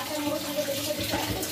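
Tap water runs over freshly cut beef oxtail being rinsed for soup in a village kitchen, a steady close splashing rush with small bursts where the pieces break the stream. No one speaks over it.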